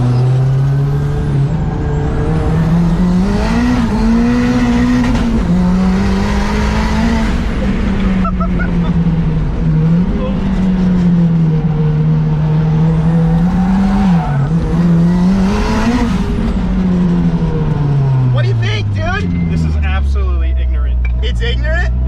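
A modified 300-horsepower Mazda Miata engine drones loudly and close, holding a steady throaty note with small rises and dips, then climbing sharply in pitch near the end as it accelerates.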